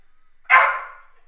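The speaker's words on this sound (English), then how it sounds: "Dog barking is done." A single short dog bark, fairly close and loud, rising sharply and fading within about half a second against an otherwise quiet background with no talking.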